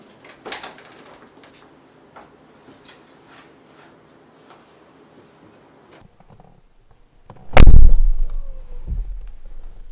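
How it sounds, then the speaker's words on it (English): The door of a 2021 Mercedes-Benz G-Class, a Hofele Design build with rear-hinged doors, shuts with one loud, solid, deep thud that follows several seconds of faint handling noises. "Amazing G-Class characteristic, how the door closes, the sound."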